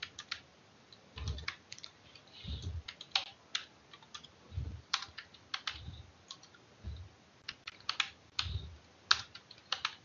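Programming code typed on a computer keyboard, close crisp key clicks in irregular bursts with occasional heavier thumps, no talking.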